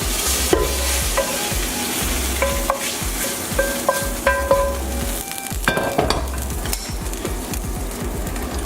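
A seasoned steak sizzles steadily in a hot pan, with a continuous close frying hiss broken by occasional clinks and scrapes of a utensil against the pan.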